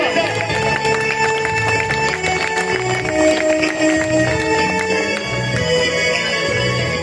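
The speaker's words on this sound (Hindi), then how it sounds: "तालियों के साथ।" Crowd applause at a school parents day prize ceremony, a dense steady clatter of clapping held at an even level throughout, with background chatter and a faint musical tone mixed in.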